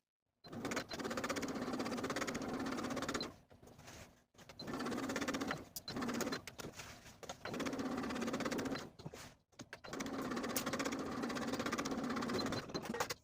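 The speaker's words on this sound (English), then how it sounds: "Now I'll edge stitch those pockets in place along the side and bottom edges with a long straight stitch" Sewing machine edge stitching pant pockets with a long straight stitch, close, even motor hum and rapid needle clatter in four sustained runs separated by short pauses.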